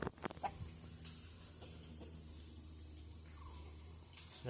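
A hen clucking at a farmyard home, soft short clucks heard faintly over a low background hum.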